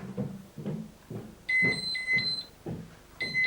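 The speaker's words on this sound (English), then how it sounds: "I wasn't expecting the burglar alarm to go off." A burglar alarm sounds inside a dental practice with two short bursts of high, steady electronic tones over low rhythmic pulsing, loud and close, with no speech.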